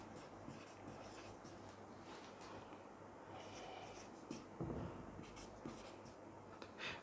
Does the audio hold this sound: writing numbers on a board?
yes